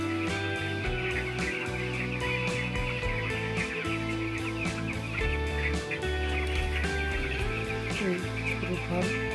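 Broiler chickens in a poultry farm cluck and chirp as a dense, constant chorus heard from a rooftop nearby, with a steady hum of farm machinery and occasional voices underneath.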